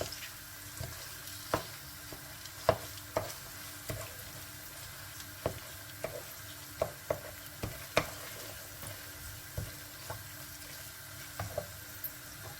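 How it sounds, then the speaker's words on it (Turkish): Brain being stir-fried in a pan and broken up with a spoon: a faint, steady sizzle carries a run of sharp spoon taps and scrapes at irregular intervals, with no voices. "Bunu da bir tur şöyle çevirerek kavuracağız. Kavurdukça da şöyle biraz ufaltıyoruz."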